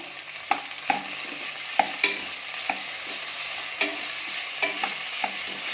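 Chopped tomatoes hit a hot pan of frying vegetable pulao base, with repeated scraping stir strokes and a faint sizzle underneath, spaced irregularly and close by.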